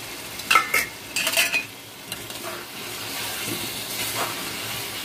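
Cut potatoes that were boiled beforehand drop into a frying pan and are stirred, producing a couple of loud scraping bursts followed by a steady soft sizzle. No one speaks.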